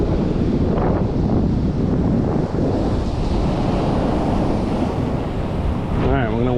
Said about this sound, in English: Atlantic Ocean, folks.